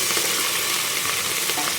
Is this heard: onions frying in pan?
yes